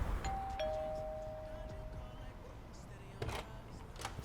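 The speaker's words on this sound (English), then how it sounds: "There's a doorbell." A doorbell chimes indoors, two tones ringing out near the start and fading over a low room hum, followed later by a faint clatter.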